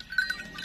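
Goats on a Pakistani village farm, among them a nanny with three kids, give a brief, faint bleat that is heard alone in a short moment.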